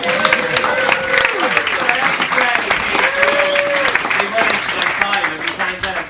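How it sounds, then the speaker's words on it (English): A comedy club audience at a Dublin bar breaks into loud, steady applause with cheers, a dense continuous clatter of many hands filling the room. "Give me a big round of applause"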